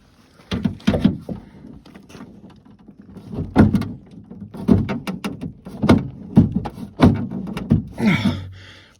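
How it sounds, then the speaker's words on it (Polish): An Opel car door being forced fully open during a window repair, heard as repeated heavy thuds, creaks and scraping knocks, close by and irregular, with brief voices in between. "Czekaj, przesuniemy drzwi na maksa otwarte"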